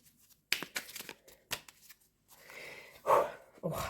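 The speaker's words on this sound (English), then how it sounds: "Let's give it some overhand shuffling." Tarot cards shuffled overhand by hand, giving several quick papery riffling bursts with short pauses between them, fairly close and moderately loud, with no talking.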